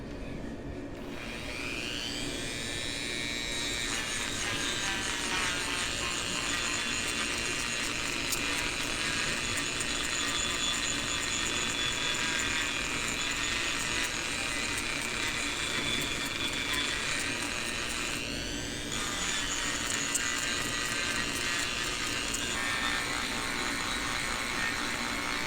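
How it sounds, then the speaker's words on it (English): A Dremel rotary tool whines steadily at high speed while smoothing and shaping a cheap Harbor Freight chisel, with the pitch briefly dipping and rising as it presses into the steel, running nearly continuously and close. "Now we're just going to take the Dremel and kind of smooth everything out, get everything kind of even, leveled out"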